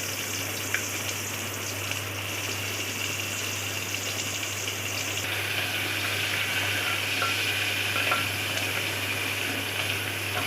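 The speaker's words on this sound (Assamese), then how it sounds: "ইয়াতে মই এতিয়া আৰু অলপমান পিঁয়াজ ভাজি ল'ম।" Onion slices frying in a pan for egg biryani, a continuous close sizzle and crackle that holds steady throughout, slightly brighter in the second half, with no talking.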